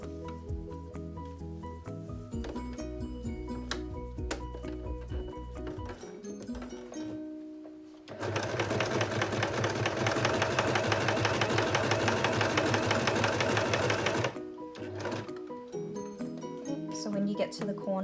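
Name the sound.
sewing machine sewing a T-shirt face mask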